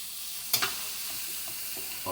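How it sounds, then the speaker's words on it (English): A spoon stirs sauce in a pan for garlic bread, with a pair of sharp scrapes near the start, then soft faint stirring over a steady low background hiss. "Let me stir around my sauce here."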